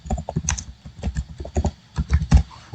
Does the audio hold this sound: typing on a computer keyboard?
yes